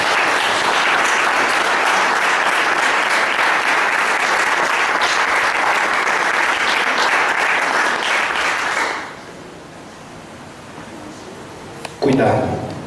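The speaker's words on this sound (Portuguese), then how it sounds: "Aplauda o Senhor Jesus" A church congregation claps loudly and continuously for about nine seconds during a Portuguese-language sermon, then the applause fades out and a voice speaks briefly at the end.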